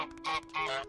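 Two quick, nasal goose honks in succession from Untitled Goose Game, close and clear, with no speech.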